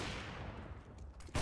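Muffled rapid gunfire passes through a wall in Counter-Strike, a dense continuous burst of shots ending in a louder crack.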